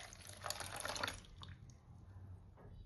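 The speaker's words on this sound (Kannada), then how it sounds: "ಈಗ 1 ಗ್ಲಾಸ್ ನೀರು ಹಾಕ್ತೀನಿ." A glass of water is poured into a pot of dates being cooked for a sweet chaat chutney, a short close splashing pour that fades into quieter trickling and dripping, no talking.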